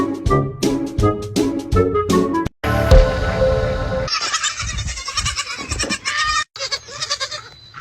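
Several goats bleat loudly and close by in a rapid, overlapping series of cries, some short and some drawn out, with brief gaps between bursts.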